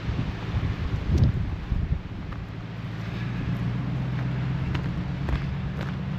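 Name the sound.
west wind blowing at seawall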